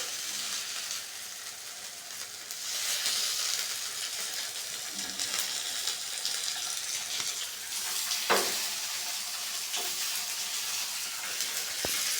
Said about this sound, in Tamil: மீன் வறுத்து வர்றதை பார்க்க அழகா இருக்குல்ல